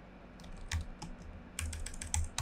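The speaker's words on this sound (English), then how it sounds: "Let's continue the typing." Typing on a computer keyboard: clusters of clicky keystrokes, close and fairly quiet, in short irregular bursts with brief pauses between them, no voices.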